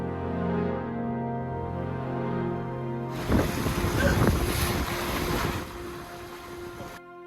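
A car fords a river on Iceland's F210 highland route, its engine droning low before a loud rushing surge of splashing water and wind noise that fades away.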